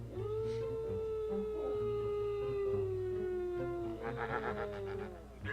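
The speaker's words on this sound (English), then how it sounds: "I'm hearing howling." Drawn-out howling like dogs or wolves, one long sustained wavering howl with other overlapping cries joining near the end, fairly clear against a low steady background hum and no talking.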